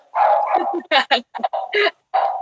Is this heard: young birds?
no